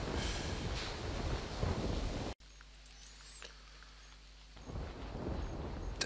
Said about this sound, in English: Damn, the rain is loud here.